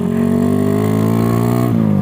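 A motorcycle fitted with a loud Wijaya Knalpot aftermarket exhaust revs nearby, a harsh, steady engine drone that rises in pitch and then drops abruptly near the end.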